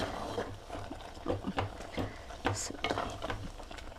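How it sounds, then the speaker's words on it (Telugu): A lid lifted off a pot of simmering green amaranth curry, with scattered soft metallic clinks and scrapes over a low kitchen background, close and fairly quiet, no talking. "మూత తీస్తున్నానండి."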